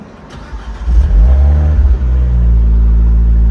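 A Fiat 124 Spider Abarth engine, fitted with Alfa Romeo 4C coil packs, cranks briefly, then catches and roars up loudly before settling into a steady, rumbling idle close by.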